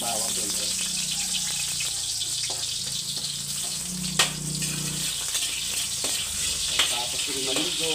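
Garlic sizzling steadily in a hot pan for adobong pata, a loud continuous crackling fry with occasional clinks of a utensil stirring.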